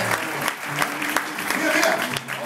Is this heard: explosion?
no